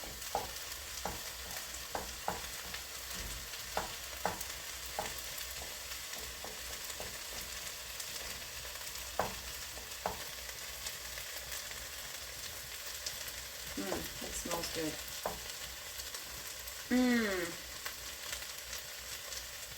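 Steady frying sizzle of tomato paste in a pan with occasional stirring clicks, a brief spoken remark near the end.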